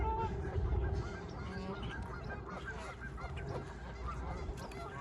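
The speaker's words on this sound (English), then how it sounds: "Geese." Geese honk repeatedly in a noisy outdoor setting by a lake in Regina, calls overlapping over a steady background din of water and other birds, including gulls.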